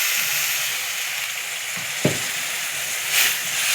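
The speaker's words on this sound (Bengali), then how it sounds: "এবারে জলটা দিয়ে দিচ্ছি।" Water is poured into a pan of frying grated coconut, giving a steady loud sizzle with one sharp splash-crackle partway through and a brief surge near the end, with no talking.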